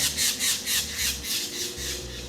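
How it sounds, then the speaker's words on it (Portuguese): A red-headed woodpecker calls outdoors with about five loud, harsh, rhythmic squawks in quick succession, close and clear over a low background hum. "aquele é um pica-pau"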